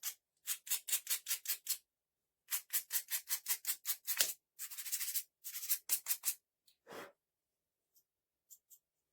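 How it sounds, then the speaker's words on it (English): A sanding block rubs over wood in quick bursts of short scratchy strokes, close and crisp, pausing between sets, then a few scattered final scrapes. "Now I'm going to hit it too with the sanding block."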